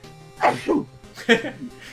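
A sneeze close to the microphone in a quiet room during casual video game commentary, heard as two short, sharp voiced bursts.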